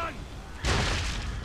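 A ship's cannon broadside in an Assassin's Creed 3 naval battle lands as a heavy, booming burst of gunfire about halfway through, after a brief quieter stretch, and rumbles on to the end.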